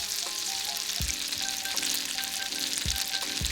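Lightly battered artichokes fry in hot oil, a close, steady sizzle and crackle with a few soft clinks of a utensil, no voices.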